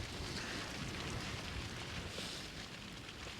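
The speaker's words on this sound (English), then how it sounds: "I've just got driving rain coming in" Heavy wind buffeting close to the microphone with driving rain lashing down at a small cave camp, a constant roaring rush without any voices.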